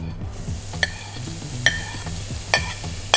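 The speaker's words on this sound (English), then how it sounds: "We're gonna go in with some minced onions." Minced onions fry in olive oil with a soft, steady sizzle, stirred by a utensil that clinks sharply against the pan about four times at regular intervals, close and unaccompanied by speech.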